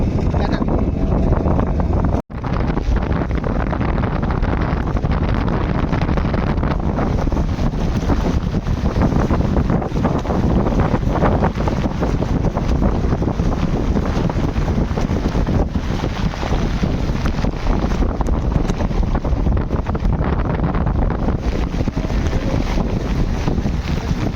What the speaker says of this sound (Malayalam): കാറ്റും മഴയാണ് കേട്ടോ